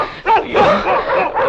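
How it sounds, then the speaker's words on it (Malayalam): A dog in a 1991 Malayalam film barks and yelps in several sharp, loud, close bursts with brief gaps between them. "പട്ടി കൊലക്കുമ്പോ എന്ത് ചെയ്യണോ നീ പറഞ്ഞില്ലല്ലോ?"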